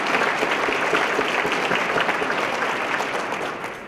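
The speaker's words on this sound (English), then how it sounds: "Let's give our gold sponsors a round of applause." An audience at the 2014 Desert Peaks Awards claps for gold sponsors, a dense, loud, sustained round of applause from a full room that tapers off slightly at the end.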